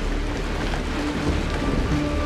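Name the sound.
falling rain in the video game Honkai: Star Rail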